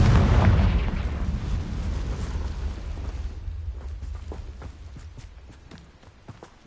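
A spell explosion in the Hogwarts Legacy video game: a loud, low booming blast at the start that rumbles and fades over a few seconds, followed by scattered lighter crackles and debris-like clicks.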